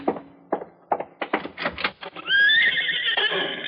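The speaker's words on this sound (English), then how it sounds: "Why, yes, that's a horse out there." A horse whinnies loudly outside as a radio drama sound effect, a long rising neigh following brief talk from people gathered indoors.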